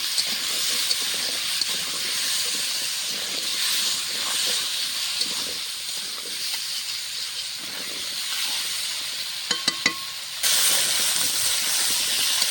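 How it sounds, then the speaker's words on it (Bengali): A constant, loud hissing sizzle of potatoes frying in oil with turmeric runs throughout, with a few sharp clicks and a sudden jump in intensity near the end. "দিয়ে ভালো করে লাল লাল করে আলুটা ভেজে নেবো"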